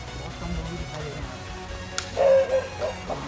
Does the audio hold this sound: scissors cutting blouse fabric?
no